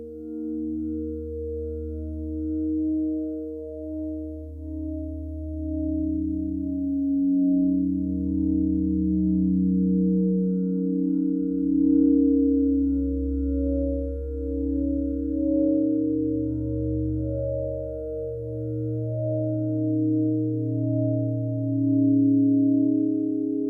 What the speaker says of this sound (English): These notes are sent to a pretty simple wavetable instrument,